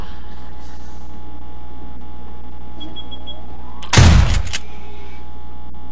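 A single loud, close shotgun turret blast at a zombie in 7 Days to Die, a short sharp report rising abruptly out of a steady low background hum and quickly cutting off.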